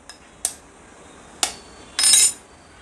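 Eggs are cracked into a mixing bowl in a home kitchen: a few sharp taps of shell on the bowl rim, then a brief wet splatter as the contents drop in, close and clear with no talking.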